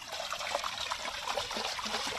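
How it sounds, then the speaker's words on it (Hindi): A wooden stick stirs pesticide solution in water for tomato crops, giving a soft, steady sloshing and trickling that runs through the whole moment at low volume, with no voices. "ऐसे लकड़ी के माध्यम से हिलाते रहना है, जब तक ये मिक्स नहीं हो।"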